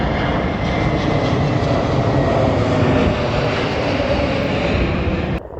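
A propeller or jet airliner passes overhead near an industrial estate by the Colne Brook, a loud, steady broadband engine roar that holds for about five seconds and then cuts off abruptly at the end, with no talking.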